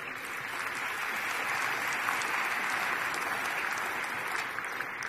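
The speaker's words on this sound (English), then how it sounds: "Let's give a round of applause to Callaway." Large-hall audience applause for Callaway at a corporate conference keynote, a broad, even roar of many hands clapping, steady and continuous at a fairly distant, reverberant level.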